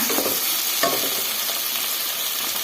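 Tomatoes fry with a steady, loud sizzle in a pan while they are stirred. One brief stirring scrape cuts through the hiss, and nobody speaks.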